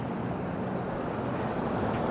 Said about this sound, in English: nice little water feature